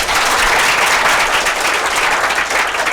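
Studio audience applause at a French television show, a thick, steady burst of many hands clapping close and loud throughout, with no voices over it.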